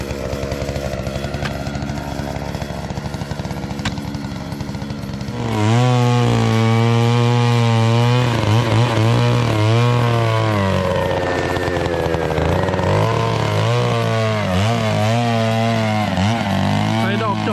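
A loud engine-driven auger roars steadily, its pitch rising and falling as it bites into soil while digging holes for banana planting, after a quieter stretch of background noise.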